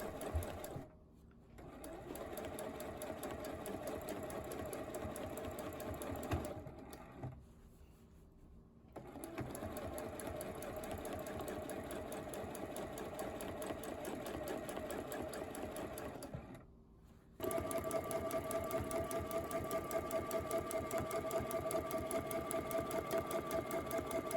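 A sewing machine free-motion quilts a clover pattern, running in long steady bursts of rapid stitching that are broken by short pauses, with a final stretch that is louder and close up.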